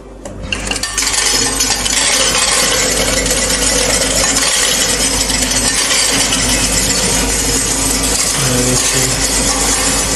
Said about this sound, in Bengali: কয়েন কাউন্ট করবে এখন